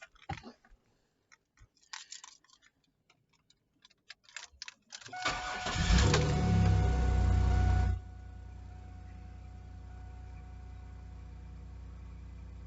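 A Camaro engine, just back from a fuel pump replacement, turns over with loud rattling cranking, catches and runs roughly for a couple of seconds, then settles to a steady, quieter idle, preceded by scattered clicks and handling noises.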